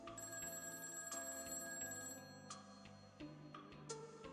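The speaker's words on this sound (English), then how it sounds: "I heard my phone ring." A telephone rings indoors in a Hong Kong shop setting in 1986, with repeated bright electronic ring bursts in a steady rhythm at moderate volume, no voices present.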